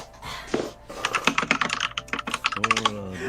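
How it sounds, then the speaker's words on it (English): Close, quick computer keyboard typing patters in bursts of rapid clicks, with a little background sound from the game and a brief voice near the end. "I see that and then immediately hear typing"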